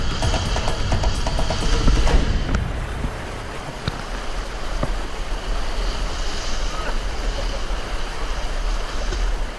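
Strong river currents rush in a loud, constant turbulent roar, with gusty wind buffeting the microphone throughout.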